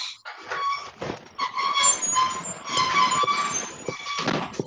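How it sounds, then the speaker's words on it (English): Motorized residential garage door opening, a sustained grinding, squeaking rumble with squealing overtones that swells and dips over several seconds, fairly loud and close with no talk over it. "that's my garage door making all sorts of noise"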